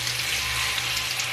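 Pig mask and ears frying in a pan of hot oil, a steady dense sizzle with crackling spatter, close and continuous with no talking.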